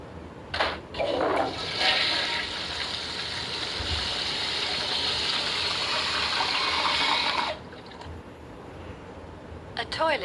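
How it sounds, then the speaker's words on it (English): A toilet flushes with a loud, steady rushing gush of water lasting several seconds, then cuts off abruptly into quiet room tone with a few small knocks. "toilet is what you use to get rid of waste."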